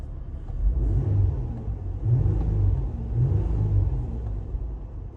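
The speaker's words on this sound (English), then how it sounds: "Just now I just need to give it a little rev." A car engine, heard from inside the car, revs several times in a row, each low, rumbling surge rising and falling in a steady rhythm, close and moderately loud, with no talking.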